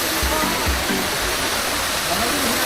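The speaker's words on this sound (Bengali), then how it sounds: "ঝর্ণার পানি প্রবাহের শব্দ আপনারা শুনতে পাচ্ছেন।" Water rushes loudly and steadily at Himchori waterfall in Cox's Bazar, a constant close roar with faint voices briefly audible underneath.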